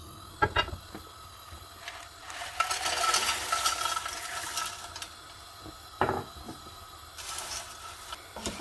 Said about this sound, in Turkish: Erişte makarnamızı yağda güzelce kavuruyoruz.